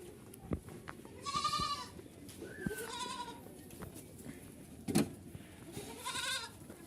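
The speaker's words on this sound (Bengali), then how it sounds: "চলুন আমরা দেখি কিছু ছাগল।" Totapuri goats on a goat farm bleat repeatedly at moderate distance, several wavering calls over a steady background murmur, with occasional knocks and bumps.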